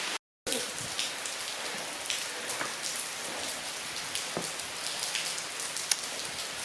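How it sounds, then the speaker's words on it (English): Heavy rain pours steadily in Tennessee woods beside a small creek, a dense, even hiss of drops close by, with a brief dropout near the start and a few sharper drips. "it's raining really bad"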